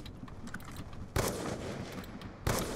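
Two sharp, loud gunshots in Black Ops 2 crack out about a second apart over a low, busy game background.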